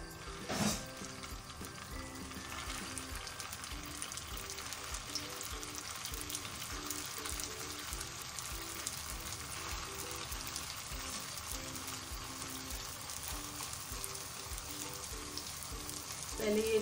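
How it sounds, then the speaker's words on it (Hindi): Aloo seekh kababs fry in hot oil on a low flame, a continuous close sizzle and crackle that holds steady throughout with no talk over it. "सीख कबाब हमने बना लिए थे, अब इसको फ्राई कर लेते हैं"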